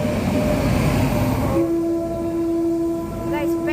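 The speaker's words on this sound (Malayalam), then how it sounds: "petrol train പെട്രോളാട്ടാ" A freight train of petrol tanker wagons rolls past, a steady heavy rumble with a long sustained horn tone cutting in midway and holding to the end.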